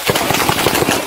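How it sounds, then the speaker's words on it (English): Rapid gunfire in a quick series of sharp bursts during a police response to a fleeing van near a middle school, loud and close, crowding the whole moment without pause. "Shots fired!"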